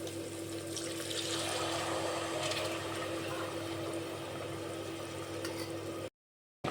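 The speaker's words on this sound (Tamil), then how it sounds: "2 கிளாஸ் தண்ணியை ஊற்றவும்." Water pours steadily into a pot of chicken biryani, two glasses' worth, making a continuous broadband rush with a low hum beneath, ending abruptly.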